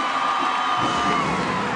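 Volleyball fans roar and cheer in St. John Arena during a Minnesota vs. Ohio State women's match, a dense, loud, continuous crowd wall with a few higher whoops and whistles riding on top.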